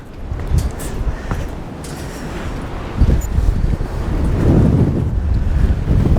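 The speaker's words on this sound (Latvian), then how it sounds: "Var jau just lēnām. Vējš sāk celties." Gusting wind of a rising storm in Latvia buffets the microphone, roaring louder partway through, with a wash of water or surf beneath.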